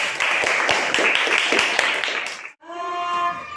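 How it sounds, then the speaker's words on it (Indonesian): A burst of classroom group applause, dense rapid clapping for a couple of seconds, then it stops and a voice starts speaking. "kita beri tepuk tangan untuk kelompok keempat"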